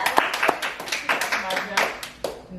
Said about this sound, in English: Y'all clap that up, man.